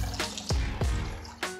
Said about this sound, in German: Das Ganze gießt du dann einfach mit 150 Gramm Rinderfond auf.